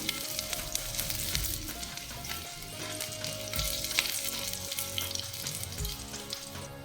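Green chillies fry with cumin in hot oil for a fasting sweet-potato dish, making a dense, busy sizzle with stirring noise over a steady backing of music.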